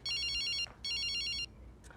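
A telephone ringtone sounds in two quick, bright electronic bursts with a short gap between them. It is moderately quiet and heard alone, with no one speaking over it.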